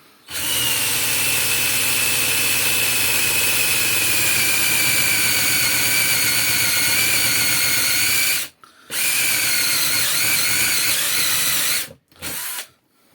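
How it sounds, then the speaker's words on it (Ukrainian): A drill bores into 8 mm aluminium with a loud, continuous high-pitched whine and strain. It runs for about eight seconds, pauses briefly, then runs again, with a short final burst. "Сверлить, але алюміній досить в'язко, досить важко сверлиться."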